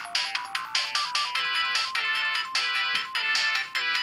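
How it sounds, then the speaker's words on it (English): Sonic 1 ring chime from the video game played on an iPod, a rapid series of bright metallic dings repeating in a quick rhythm, clear and alone. "You hear the ring sound."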